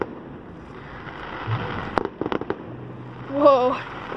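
Fireworks exploding at an outdoor show, a few scattered sharp pops and a brief cluster of crackles heard over steady ambient noise, with a short voiced exclamation near the end.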